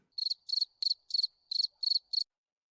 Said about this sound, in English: I believe I hear the crickets.